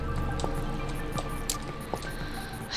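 Water switched on in the atmospheric indie horror video game A Wolf in Autumn, heard as scattered close drips and small splashy clicks over a steady low wash of running liquid.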